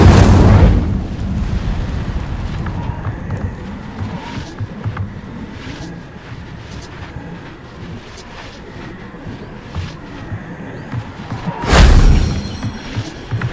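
An Incendio fire spell in the PC game Hogwarts Legacy opens with a heavy, booming blast, then low rumbling and crackling combat effects, and a second loud burst near the end.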